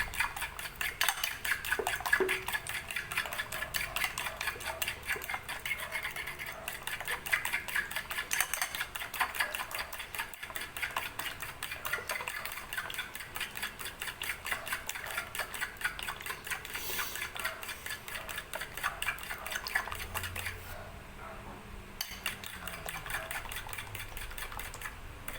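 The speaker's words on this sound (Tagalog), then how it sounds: "I-mix lang din na maigi yung itlog." Eggs for leche flan being stirred and mixed in a bowl, a steady, fast clinking and scraping of utensil against the bowl that runs continuously at close range, with no talk.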